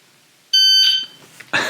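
A Kestrel KST1000 shot timer buzzer sounds a single loud, piercing electronic beep with steady tones, close and indoors, followed by handling noise and a brief second burst.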